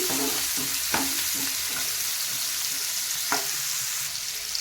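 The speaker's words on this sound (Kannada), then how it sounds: "ಈಗ ಇದನ್ನು ಸ್ಲೋ ಉರಿಯಲ್ಲಿ ಒಂದು 2 ರಿಂದ 3 ನಿಮಿಷ ಫ್ರೈ ಮಾಡ್ಕೊತೀನಿ" Finely chopped onions frying over low heat in a pan, a steady sizzle broken by a series of spoon scrapes and taps as they are stirred, close and without speech.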